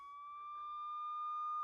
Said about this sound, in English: Suddenly, outside, they hear the sound of a siren. It is a police car.